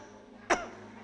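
A single short cough, close and fairly loud, breaks the quiet during a French-language church sermon, with no speech around it.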